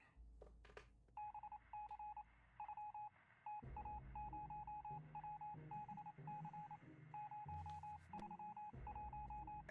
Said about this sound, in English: We could hear nothing but annoying static.